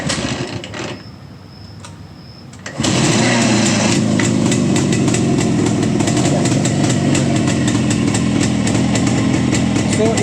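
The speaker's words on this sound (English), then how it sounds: "So if we can start up the motorcycle" A Jawa 350 motorcycle sits quiet with faint clicks before the engine catches almost three seconds in, then settles into a loud, steady, rapid idle that holds close and unbroken through the rest.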